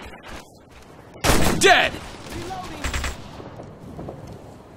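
Bursts of rapid gunfire ring out in a military shooter game set in Operation Flashpoint Red River, a loud volley followed by scattered shots, while a voice calls out briefly over the combat.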